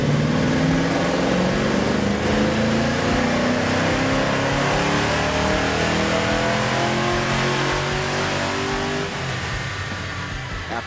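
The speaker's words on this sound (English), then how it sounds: "loaded up our Fox body onto the dyno to see what kind of numbers we could get out of our 363" A Ford 363 small block V8 in a Fox body car revs hard on a chassis dyno, a loud sustained engine note climbing steadily in pitch and easing slightly near the end.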